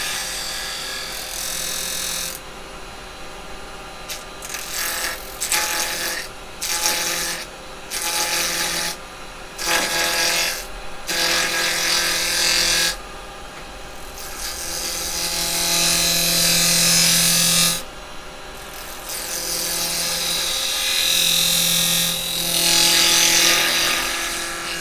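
Carbide chisel cutting a tenon on a spinning workpiece on a woodturning lathe, a steady close scraping hiss broken by repeated short pauses as the tool lifts, then longer continuous cuts toward the end.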